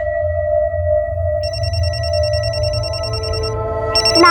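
A mobile phone left behind at home rings with a steady electronic ringtone, loud and close, with a tonal melody layered over a low hum and no voices.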